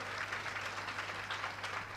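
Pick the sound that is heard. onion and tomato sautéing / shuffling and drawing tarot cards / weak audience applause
weak audience applause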